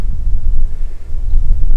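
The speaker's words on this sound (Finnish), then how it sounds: "Mutta mahtava tuulinen paikka tässä." Strong wind buffets the microphone at a lakeside campsite in a national park, a loud continuous low rumble with gusting swells and no other sounds.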